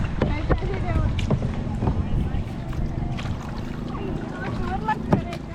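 A kayak is paddled on open water near a temple, with soft splashes and water movement under wind buffeting the microphone while a person talks.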